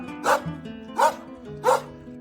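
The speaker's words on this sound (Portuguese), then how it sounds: "Sob o latido desesperado dos cachorros" Three loud dog barks, evenly spaced about a second apart, close by over a low background hum.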